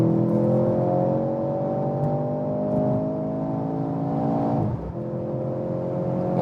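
Mercedes C43 AMG pulling hard on the Autobahn, a loud engine drone heard from inside with steady rising harmonics, briefly dipping at a gear change before climbing again.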